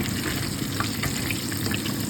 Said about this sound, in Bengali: হালকা বেসন দেওয়া আছে, কীভাবে ভাজা হচ্ছে।